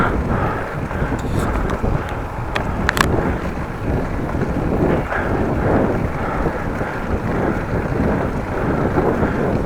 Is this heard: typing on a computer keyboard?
no